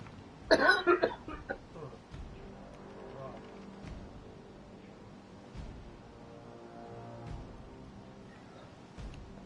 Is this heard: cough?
yes